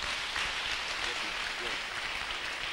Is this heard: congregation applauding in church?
yes